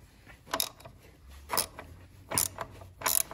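Socket wrench ratcheting on a 9/16 nut, loosening the pulley on a 48-inch commercial walk-behind mower, four short bursts of close, crisp clicking with pauses between.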